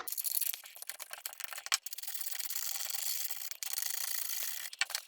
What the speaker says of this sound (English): Just scraping it with a knife or using a file or a bit of sanding block